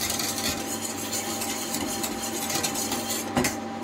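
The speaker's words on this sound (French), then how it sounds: "Je mélange bien." A mixture being stirred in a bowl, a continuous close scraping swish with faint clinks of the utensil against the side, steady for several seconds.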